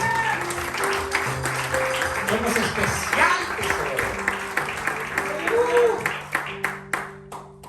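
Church congregation claps for the Lord during a Spanish-language worship service, a steady wash of applause over sustained music, with someone speaking over it and sharp claps sounding near the end.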